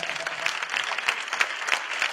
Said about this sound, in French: Acclamez pour cet homme.